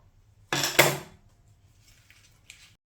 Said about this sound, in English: let's put all of this in the pot